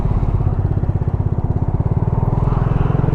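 Suzuki FL125 Address scooter engine held at a slightly raised idle while stopped, a steady pulsing putter with fast regular firing beats, loud and close throughout with no talk.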